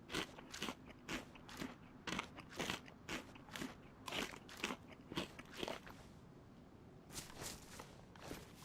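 Moose meat is bitten and chewed up close outdoors during a rain break, with a string of sharp, crunchy bites and wet chewing sounds in uneven bursts and short pauses.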